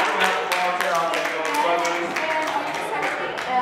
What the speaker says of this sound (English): let's give them both big round of applause